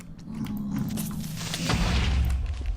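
An explosion in Minecraft, modded Sky Factory 3 play: a dense, rumbling boom that swells and thickens toward the end, continuous and loud with no speech.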